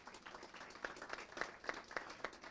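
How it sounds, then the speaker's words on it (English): A small audience at a city council meeting applauds. The clapping is faint and loosely spaced, and individual claps are distinct over about two and a half seconds. "let's give him a round of applause."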